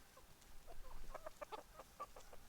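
Full-grown backyard hens in a Deep South Texas garden cluck softly and at a distance, giving a run of low, irregular clucks over quiet outdoor background.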